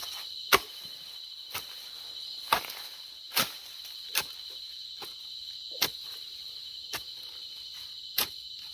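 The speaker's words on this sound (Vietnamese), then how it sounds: "Mấy con dế cạn hả? Có con dế đào sâu thôi rồi." Field crickets chirp at night, a steady high shrill trill running throughout, broken by sharp loud taps or chops roughly every second as someone digs near a burrow; no talking is heard.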